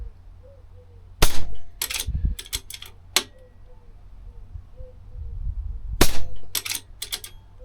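A budget air rifle shooting H&N Excite pellets cycles its magazine and fires: several sharp, close cracks and metallic clicks come in uneven bursts, with quiet handling noise between them.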